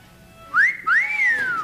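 A person whistles two short rising-and-falling notes, the second held longer and sliding down, clear and close.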